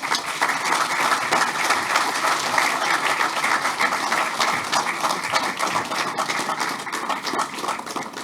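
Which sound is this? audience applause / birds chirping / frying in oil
audience applause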